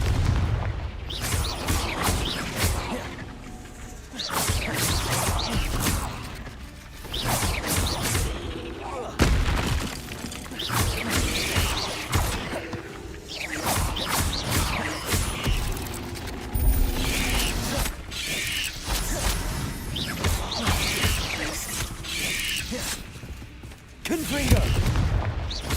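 Repeated Confringo fire spell explosions in the video game Hogwarts Legacy, a series of loud booming blasts and crackling bursts spread throughout, with a voice talking between and over the impacts.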